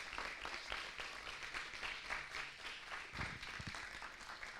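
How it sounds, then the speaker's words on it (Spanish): A church congregation applauds together during a service, a dense wash of claps held at a steady level throughout, with a few sharper nearby hand strikes toward the end. "¿qué les parece si damos un aplauso a todos los que son parte de esta hermosa iglesia?"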